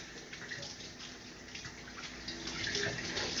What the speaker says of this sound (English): gotta wash whatever's left off my fingers so that I can actually hold stuff